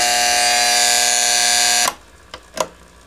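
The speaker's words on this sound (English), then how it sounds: "you hear only the buzzer." A loud, harsh electronic buzzer from a vintage Panasonic RC-6530 mechanical flip clock radio drones steadily, then cuts off abruptly, followed by a couple of faint clicks.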